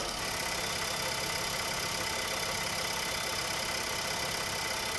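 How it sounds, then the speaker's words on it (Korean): A 2019 Renault Samsung QM6 engine with about 50,000 km idles steadily nearby with the hood open, a constant, even rumble and whir that holds without change throughout. "엔진룸 열어놨고요 엔진룸도 이렇게 깔끔하게 세차되어 있습니다 엔진 소리 들어보도록 할게요"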